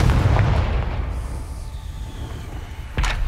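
Fiery spell explosions blast in a PS5 wizarding game, a heavy booming burst at the start that rumbles and fades, then a second sharp blast near the end.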